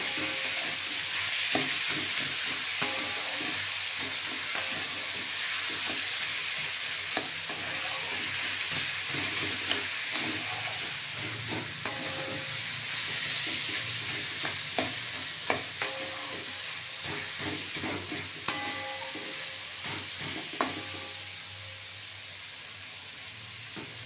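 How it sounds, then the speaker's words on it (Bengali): A spatula stirs garlic, dried chilli and cumin paste frying in a pan, with a steady sizzle broken by repeated scraping strokes and clinks, which then settles into a quieter hiss at the end. "হ্যাঁ, এবার আমি এটা নাড়ব।"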